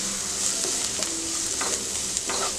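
Masala for raw mango rice is stir-fried over low heat, a continuous close sizzle overlaid with soft scraping strokes of a spatula in the pan.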